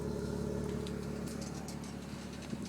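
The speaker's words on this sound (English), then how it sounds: "There's a Dinan exhaust." A 2006 BMW 330i Sport sedan with a Dinan exhaust idles nearby, a steady low engine hum with a faint mechanical whirr and no talking.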